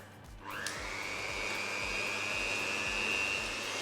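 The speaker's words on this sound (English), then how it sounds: "we're going to start whisking this together on a low speed for a couple of minutes until everything is combined" An electric mixer whisks Japanese cheesecake batter on low speed, starting up into a steady high whine over a softer rhythmic churning close by, with no talking.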